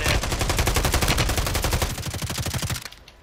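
Rapid automatic gunfire in the Call of Duty video game, a loud, steady stream of closely spaced shots lasting nearly three seconds before cutting off abruptly.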